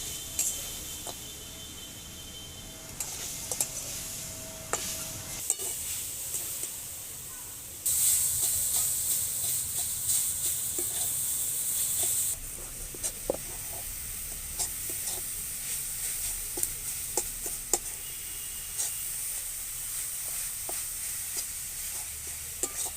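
Grated coconut and palm jaggery stirred in a wok over a stove for kadam pitha filling, giving a steady close hiss and sizzle with intermittent scraping clicks of a spatula and a louder steamy burst midway.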